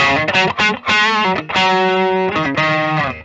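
A 2021 Gibson 1978 Chuck Berry ES-355 electric guitar on its thinnest tone setting plays a run of distorted notes with a thin, bright tone, loud and close, some notes sustained and others cut short.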